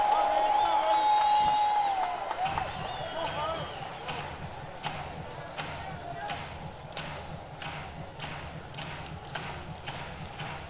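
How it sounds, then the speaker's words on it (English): Tulsa Drillers baseball fans clap in a steady rhythmic beat at a ballpark, evenly spaced claps from a crowd that pick up after a few seconds and continue under a play-by-play announcer's voice. "Driller fans with the rhythmic clapping."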